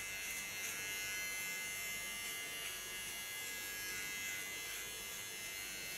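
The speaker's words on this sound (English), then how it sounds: "clipper, the small one, totally aluminium" A small all-aluminium electric hair clipper hums with a steady, close buzz for the full stretch during a haircut and styling session, unbroken and without speech.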